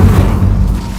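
A deep booming blast from the Bombarda spell in a wizard school video game, a loud low-pitched rumble that fills the moment and fades quickly.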